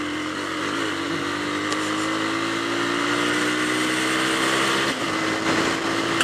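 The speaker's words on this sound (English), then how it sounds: "Just gear changes." Bajaj Pulsar 220 motorcycle engine droning steadily on a rough road in Pokhara, Nepal, pitch rising smoothly through a gear before a brief dip at a shift, with constant wind rush.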